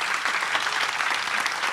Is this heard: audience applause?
yes